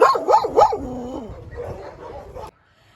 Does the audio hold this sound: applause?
no